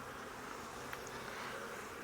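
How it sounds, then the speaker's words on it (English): Honey bees stirred up at an opened hive during a split, giving a dense, steady, close buzzing drone that holds throughout with no talk. "Upset bees."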